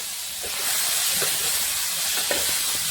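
Onions frying in a little oil, a steady broadband hiss and sizzle with faint stirring scrapes, close and continuous with no talk.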